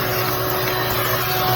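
A shop vacuum runs with a funnel fitted to its hose, making a steady, loud, close rushing roar with a constant hum, unbroken for the whole moment.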